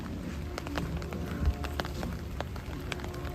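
Steady rain falls outdoors around a flooded playground, a continuous patter with scattered sharper drops and splashes, fairly close and without talk.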